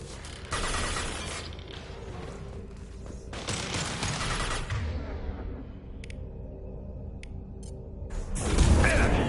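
Mass Effect 2 combat gunfire comes in bursts of sharp crackling shots, with mechanical clanks and creaks between volleys, a quieter stretch with a few isolated clicks, and then a heavy final burst.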